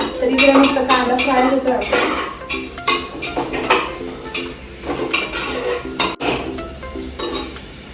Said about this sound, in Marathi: कांदे पण तेलामध्ये छान फ्राय करून घ्यायचे